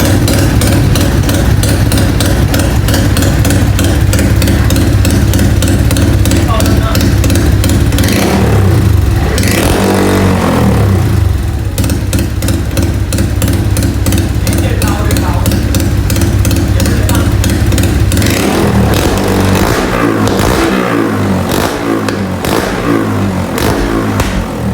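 A motorcycle fitted with a new ZBD exhaust, step 53/0, revs loudly and steadily up close, its blipping throttle and harsh exhaust note dipping briefly around the middle before climbing again into sustained high revs.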